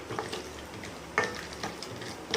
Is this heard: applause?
no